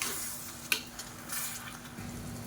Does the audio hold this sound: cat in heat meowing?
no